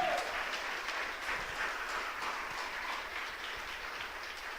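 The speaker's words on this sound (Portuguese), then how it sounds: "Você pode aplaudir o nome do Senhor?" A church congregation applauds during a harvest festival celebration. The clapping is a steady, dense wash of many hands, fairly faint and distant, that holds evenly throughout.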